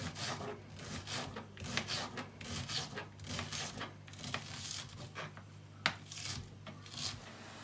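A knife slices food finely on a cutting board while preparing cheesy carbonara, quiet repeated soft chopping taps in an uneven rhythm over a low kitchen hum.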